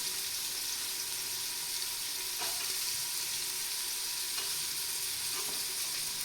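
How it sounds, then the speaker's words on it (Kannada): Sliced onions fry in a pan with mustard seeds, curry leaves and cinnamon for tomato rice, making a steady, close, hissing sizzle with a few faint stirring knocks and no talking. "ನೀರುಳ್ಳಿ ಸರಿ ಕಾಯಡಿ ಕೆಂಪಾಗಿ"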